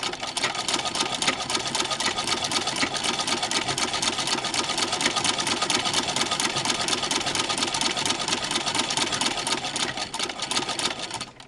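A Singer 15-88 sewing machine with a zigzagger attachment stitches without pause, a steady loud, dense mechanical whir and rapid needle clatter from start to finish, with no voices.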